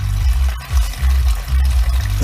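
Water pouring and gushing out of a swamped RZR side-by-side after it fell through ice, a close, loud splashing flow with uneven surges and no talk over it.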